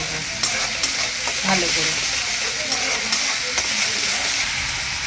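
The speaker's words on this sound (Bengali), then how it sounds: "এবার আমি পেঁয়াজটা ভেজে নেব" Onion paste frying in a pan for a Bengali doi katla (carp in yogurt) curry, with a continuous close sizzle broken by repeated scraping stirs; a voice says a few words briefly.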